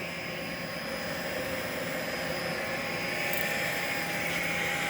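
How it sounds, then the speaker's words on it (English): A Spinbot 5000 beer-infusing pump with a split-ring housing and a nautilus-shell propeller spins continuously, giving a steady, close mechanical whir and hum without a break, with no talk over it. "the pump is a split ring, and it has a propeller like a nautilus shell, and it spins around and massages the beer"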